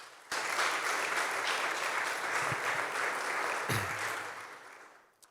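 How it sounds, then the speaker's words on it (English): Audience applause at a university faculty centre inauguration ceremony, a steady broad wash of many hands clapping that starts abruptly, holds for several seconds with a few louder thumps, then tapers off. "And please, another round of applause for them."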